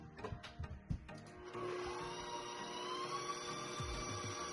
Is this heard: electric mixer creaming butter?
yes